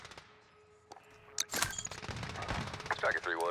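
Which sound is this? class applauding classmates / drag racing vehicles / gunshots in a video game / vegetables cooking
gunshots in a video game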